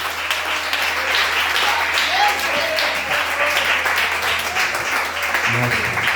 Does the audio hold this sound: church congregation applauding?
yes